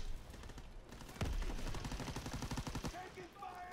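Gunfire in a first-person shooter video game: one sharp, loud shot opens a rapid automatic burst lasting under two seconds, then the shooting drops back to a quieter game background.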